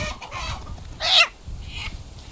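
Chickens in a poultry shed being caught by hand, with scattered clucks and one sharp loud squawk in the middle over low background rumble.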